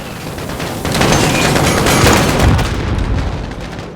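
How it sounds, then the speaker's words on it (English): A grenade explodes in the video game Modern Warfare Remastered: a loud, broad blast that swells suddenly and rumbles on for a few seconds before slowly easing off, with no talking. "Let me toss that grenade out there."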